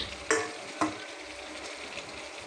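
Potatoes go into chicken curry frying in a pan for a Bengali home-style dish, with two sharp splashy hits as they land followed by a quieter steady sizzle, close and fairly soft.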